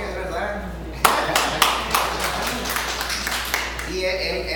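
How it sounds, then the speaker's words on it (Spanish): A small audience gives applause, a short spell of scattered, uneven claps over a low steady hum, with a voice talking briefly before and after. "Un aplauso, Jorge, es verdad."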